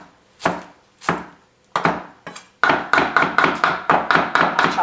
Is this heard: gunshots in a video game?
no